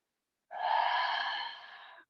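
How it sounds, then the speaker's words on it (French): A deep inhalation taken during a gentle abdominal exercise, drawn in steadily and close for about a second and a half, then tapering off, with no talking. "Creusez le ventre au maximum. Inspirez. Encore, inspirez."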